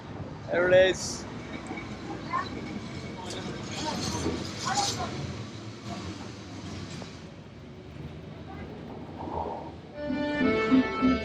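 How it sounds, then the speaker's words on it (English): A Lisbon tram car rolls past on a city street, a sustained rumbling and rattling of wheels on rails with metallic squeals near the end, mixed with street noise and people talking. "Famous tram car."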